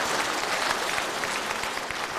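Applause from a church congregation during a revival lecture, steady moderate clapping from a crowd heard from some distance, with individual claps showing through.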